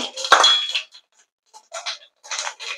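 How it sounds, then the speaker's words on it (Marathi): Mustard seeds and cumin spooned into hot oil in an Indian kitchen give a sharp metallic clink of the spoon, then bursts of crackling spatter that come and go close by. "1 चमचा इथे राई घालते, अर्धा चमचा जिरे"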